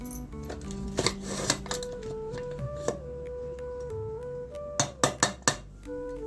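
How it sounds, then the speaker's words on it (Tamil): A pressure cooker of cooked rice is opened in a home kitchen, with scattered metallic clinks and scrapes, then a quick burst of sharper clatters near the end. "குக்கரை சாதம் வெந்துருச்சான்னு சொல்லி ஓப்பன் பண்ணி பார்ப்போம்"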